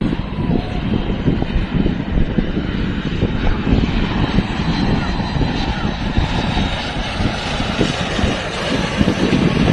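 A low-flying airplane on approach to Ordu-Giresun Airport, passing over a seaside beach, makes a loud, steady engine roar that fills the scene without letup.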